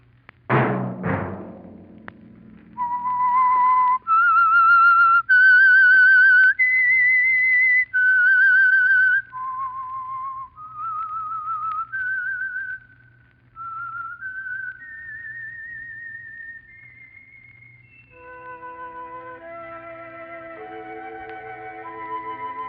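A lone whistler carries the clear melodic theme tune of the radio program The Whistler, holding long bright notes and then stepping through a quicker run of phrases, close and prominent.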